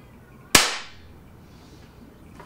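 A single sharp crack from an Air Arms FTP 900 .177 PCP air rifle fired outdoors while plinking, close and loud, with a brief fading tail and quiet before and after.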